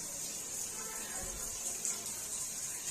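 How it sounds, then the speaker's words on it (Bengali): Cut rohu fish pieces being washed under running water, a steady hiss and splash of flowing water from a tap, close and continuous with no talk. "আজকে কাটা পোনা নিয়ে এসছে অনেক, তো চলো ধুয়ে নিই।"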